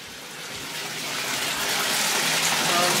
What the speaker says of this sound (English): Me and Tuffy are about to take a Epsom salt bath together.